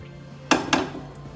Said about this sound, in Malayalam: ഇനി ഇത് നമുക്ക് കവർ ചെയ്ത് കൊടുക്കാം